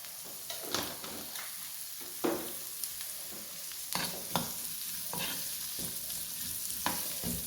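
Chopped shallots fry in hot coconut oil with a little turmeric, a steady close sizzle broken by repeated clacking stirs of a spatula against the pan, with no talk.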